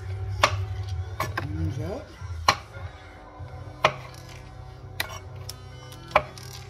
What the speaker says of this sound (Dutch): Champignons laat ik wat groter, dus niet te dun snijden.